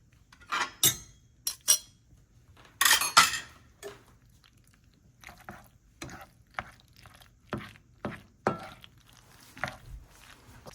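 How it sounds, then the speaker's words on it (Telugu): A spoon scrapes and clinks against a pan while lunch-box food is stirred on the stove, a run of sharp, irregular metallic knocks and scrapes with quiet pauses between them, near and moderately loud. "సో ఇప్పుడు దీన్ని బాగా మిక్స్ చేసేసుకోవడమే."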